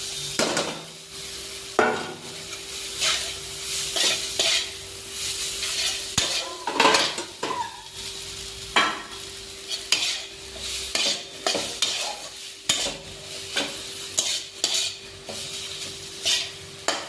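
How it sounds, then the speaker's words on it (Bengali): Chowmein is stir-fried in a pan, with regular scraping and clanking strokes of a utensil against the metal over a constant sizzle, close and fairly loud. "এখন আমি চাউমিনটা দিয়ে দেবো।"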